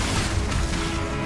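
Confringo spell cast in Hogwarts Legacy, a steady dense low rumble with a crackling blast texture lasting about a second, loud and continuous with no talk.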